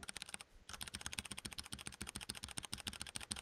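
Rapid, steady typing on George's computer keyboard during a Minecraft session: dense, even clicks of keystrokes, close and clear, with a brief pause near the start and no talking.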